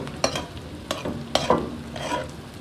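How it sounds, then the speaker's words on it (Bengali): Green chillies and onions fry in oil in a wok, a low steady sizzle punctuated by several quick spatula scrapes and stirring strokes at close range, with no voices. "মরিচও দিয়ে দিলাম, কাঁচামরিচ দিয়ে পেট ফেলে দিচ্ছি"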